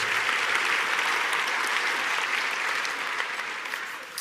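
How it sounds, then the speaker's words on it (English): An audience at a tribute event for Christopher Hitchens breaks into steady applause, a continuous even patter of many hands that holds level and fades a little toward the end. "You can applaud for that"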